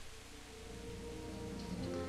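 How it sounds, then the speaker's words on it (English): Rain falls steadily in the video game Kingdom Come: Deliverance, a dense, even patter close by with no voices over it. "So do we have to do this in the rain"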